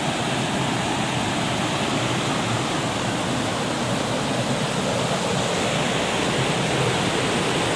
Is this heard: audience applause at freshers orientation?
no